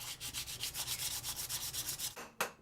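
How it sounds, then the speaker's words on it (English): Oak sword handle being sanded with 220 grit sandpaper, a steady run of close, rhythmic rasping strokes that stop near the end, followed by one brief scrape. "I sanded it over with 220 grit because the oak expanded after I added the acid"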